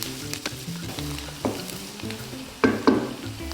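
Shallots sizzle and crackle in a hot wok during a cooking demo, with a few louder scraping stirs of a utensil against the pan near the end.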